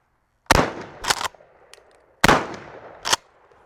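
Two shotgun blasts from shorty shotshells fired at seven yards crack out loud and close, each followed by a short echoing tail, with a faint click between them.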